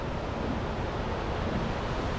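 A freshwater river near Lawrence, Massachusetts rushes steadily, a dense continuous wash of flowing water with some wind noise on the microphone.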